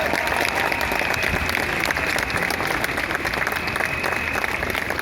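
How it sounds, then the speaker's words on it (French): Audience applause during a political speech: steady, full clapping from a large crowd, loud and continuous with no break, with no talking over it. "merci de bien vouloir les applaudir"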